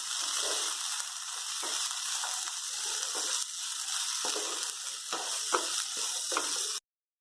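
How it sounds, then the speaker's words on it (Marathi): Cluster beans (guar) fry in a pan with a steady close sizzle, broken by occasional stirring scrapes, continuing without talk until it cuts off abruptly. "गवारी छान भाजून घेऊया दोन्ही गवारी भाजून घ्या म्हणजे भाजी छान होते"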